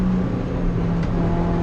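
A car on the Nürburgring track passing close by, a steady engine drone with a low tonal hum that holds for the whole moment, loud and near, with no voices.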